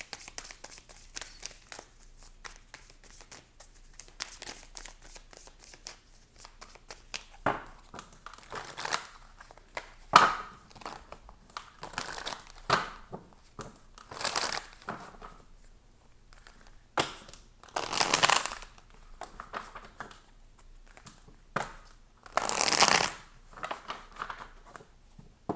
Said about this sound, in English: Let's pull some tarot cards and see.